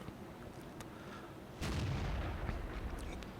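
A heavy tank's main gun fires in World of Tanks, a single loud, booming shot that cuts in abruptly over steady battle ambience and lingers as a long, low rumble.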